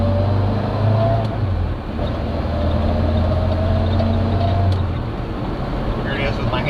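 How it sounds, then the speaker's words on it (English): A small MG car drives along under a steady low engine drone and road noise from inside the cabin, with a brief dip as it shifts, continuing evenly throughout. "It's a nice driving little car."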